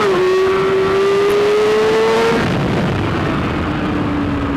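A 2015 BMW S1000RR fitted with a Hindle exhaust accelerates hard, its loud engine note climbing in pitch before a gear change drops it, then it pulls on; the quick shifter is misbehaving.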